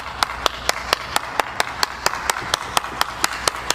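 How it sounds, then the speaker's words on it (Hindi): Single person clapping in a steady, even rhythm, about fifteen sharp claps close by, with a quiet room behind them. "बिल्कुल तालियां आपके पूर्वजों के लिए"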